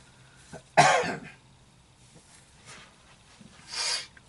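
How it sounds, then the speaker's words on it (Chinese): A person with a sore throat lets out a loud, harsh cough burst, then a quieter second cough a few seconds later, with near silence between them. "引起咳嗽喉咙痛"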